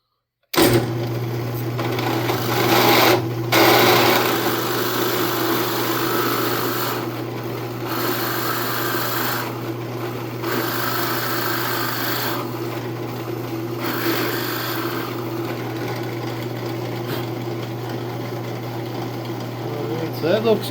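A drill bores a hole in a wooden cartridge box held in a drill jig, giving a loud, steady motor hum with several short pauses and dips over the run.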